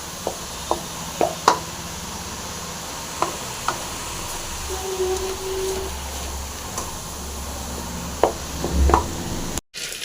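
Chillies and peanuts being pounded by hand, several sharp separate knocks spaced irregularly over a low background hum, close and fairly loud.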